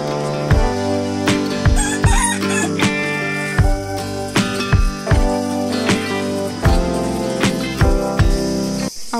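Backyard chickens clucking while a rooster crows at sunrise in a home garden with several pets, loud and continuous, with no talking.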